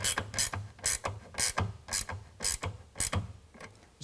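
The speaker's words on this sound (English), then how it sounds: "we're going to tighten that up with a 9/16." A ratchet tightens a 9/16 nut on a tonneau cover rail of a 2022 Ford Maverick, giving loud, close, regular bursts of clicking, about two strokes per second, with no voices.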